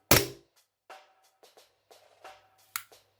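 Airsoft WE Glock 17 Gen5 pistol being handled, opening with a loud metallic clack followed by a series of faint, short clicks as the trigger is worked and reset, close and alone.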